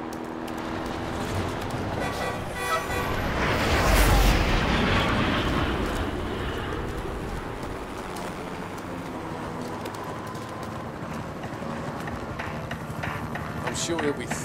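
A C4 charge detonates in the video game Modern Warfare Remastered, a loud, deep blast that swells and then rolls off into a long rumbling tail, with voices talking in the background.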